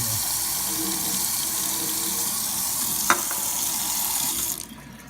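Water runs steadily from a tap over kiwi seeds and pulp being rinsed, a continuous close splashing wash with one brief clink partway through before the flow cuts off near the end.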